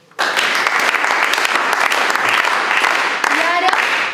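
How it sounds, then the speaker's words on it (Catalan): An audience claps together, trying to keep a shared rhythm, and a dense, loud wall of hand claps starts abruptly and carries on with a faint pulse; a voice rises briefly near the end. "Ara aplaudim intentant seguir el mateix ritme"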